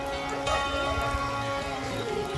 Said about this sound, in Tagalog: Lakas po ng ulan mga kalinga po.